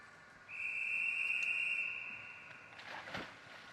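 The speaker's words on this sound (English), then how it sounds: "And there's the whistle." A single sustained, fairly loud whistle blast signals the start of the women's 100 metres freestyle S6 swimming race in an indoor pool, followed by a brief splash-like burst near the end.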